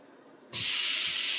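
Watermelon hits a hot grill with a sudden loud sizzle that jumps in and keeps hissing steadily, close by.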